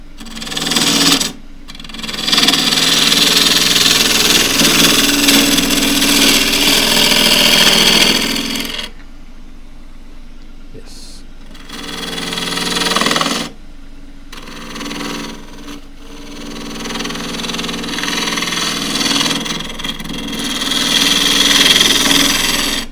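Wood lathe turning a tough birdseye Huon pine bowl blank, a steady whirring drone with a scraping tool on the wood, loud and close, cutting out briefly twice before resuming.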